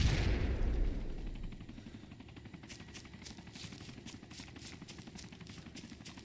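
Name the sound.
grenade explosion in a video game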